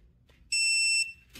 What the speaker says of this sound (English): It beeps and vibrates.